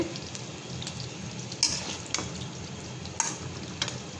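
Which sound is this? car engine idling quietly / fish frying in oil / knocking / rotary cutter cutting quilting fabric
fish frying in oil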